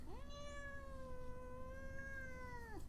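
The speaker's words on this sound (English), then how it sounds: "This is my gray cat." A gray cat gives one long, drawn-out meow, rising at the start and falling at the end, close by over a quiet indoor background.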